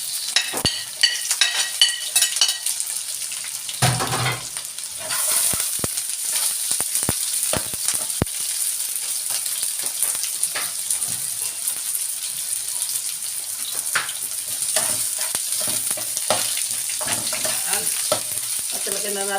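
Onions and meat sauté in a hot pan for Filipino dinuguan, a steady close sizzle and frying hiss with scraping and stirring clatter early on, continuing alone without talk.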